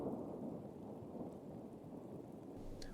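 Steady rain pours in a dense, even wash with a low rumble of thunder underneath, continuous and fairly quiet, with no voices.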